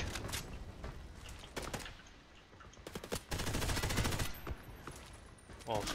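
Gunfire from the X95R rifle in the shooter game Hired Ops, rapid bursts of sharp shots in clusters with brief pauses between them, loud and close throughout.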